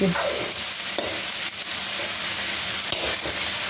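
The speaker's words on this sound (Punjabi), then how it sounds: "ਤੇ ਲੋ ਜੀ ਪਿਆਜ਼ ਭੁੰਨ ਲੈਨੇ ਆਪਾਂ" Onions with green chillies frying in oil in a pan for a home-cooked okra dish, a dense close sizzle running throughout with occasional spoon scrapes and knocks as they are stirred.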